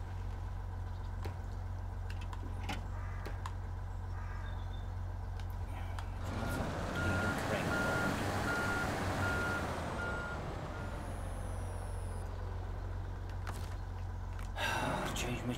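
Repeated reversing beeps from a truck in the SnowRunner video game, a steady evenly spaced beeping over a low engine rumble, loudest in the middle stretch.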